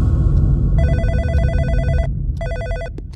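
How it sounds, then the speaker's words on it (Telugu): A telephone rings in two clear electronic bursts, the first longer and the second short, close and loud over a low rumbling room background. "ఫోన్ నాకే మేడం."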